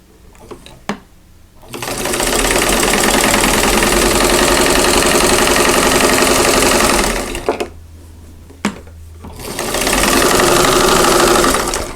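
Sewing machine chain piecing quilt block fabric, two long bursts of rapid, steady stitching with a short quiet pause and a couple of clicks between them, close and loud.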